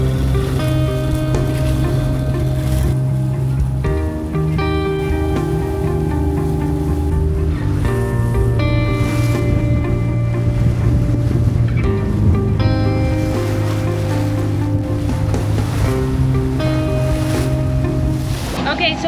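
A boat engine running steadily at higher RPM with overdrive engaged, a loud, constant droning hum mixed with wind and water rush, continuous throughout.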